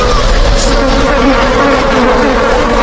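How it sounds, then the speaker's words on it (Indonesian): A huge, fog-like swarm of flies in a film drones loudly and steadily with a dense, continuous buzz that fills the whole stretch without a break. "ternyata itu bukanlah kabut biasa, melainkan kumpulan lalat yang sangat banyak bersatu sehingga membentuk seperti kabut"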